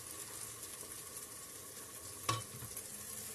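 Onion sizzles steadily as it fries in a pan, a faint continuous hiss with one sharp scrape of stirring partway through.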